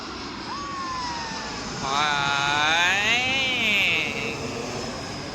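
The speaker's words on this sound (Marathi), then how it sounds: "लवकर आला ना विमान" Airplane approaching and passing overhead near D.B. Patil international airport, a loud engine roar that swells through the middle of the clip with a whining tone and falls away, steady outdoor background throughout.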